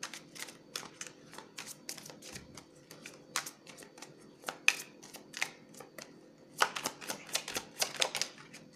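Angel cards being shuffled and drawn by hand in a quiet room, a string of crisp, papery snaps and flicks spaced unevenly with brief pauses and no talking.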